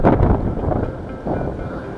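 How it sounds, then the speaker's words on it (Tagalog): Loud buffeting wind noise battering the microphone in irregular low gusts, close and rumbling, with no other sounds. "Mahangin."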